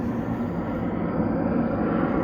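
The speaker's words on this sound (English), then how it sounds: "You get to hear all the sounds of the city right now: cars, dogs barking, and planes" A low, steady rumbling roar of an airplane passing overhead at a distance in a city, continuous and unchanging throughout.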